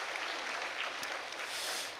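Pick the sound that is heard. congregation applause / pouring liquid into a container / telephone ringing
congregation applause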